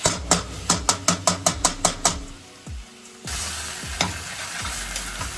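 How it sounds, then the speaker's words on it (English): Garlic stirred in a frying pan: about nine quick, evenly spaced scraping strokes of a utensil against the pan, then a steady, close hiss of sizzling oil with a few more stirs and no voices. "Whatever you do, keep moving that garlic around."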